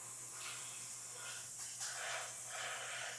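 An airbrush sprays white ink in short, hissing bursts, separated by brief pauses, with a faint steady hum underneath and no talking.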